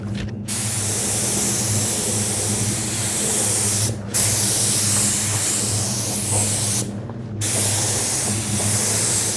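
A spray gun lays lacquer onto cabinets with a loud, close, continuous hiss. The spray runs in long passes, broken by a short stop near the start and two brief pauses between passes.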